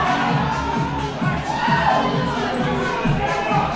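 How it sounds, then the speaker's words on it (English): A crowd murmurs and chatters at an 8-ball pool championship match in Christchurch. The voices blend into a continuous, moderately loud hubbub, with a few higher shouts rising over the din. "So that's crowd activity there with the camera moving."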